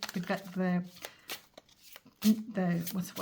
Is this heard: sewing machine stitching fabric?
no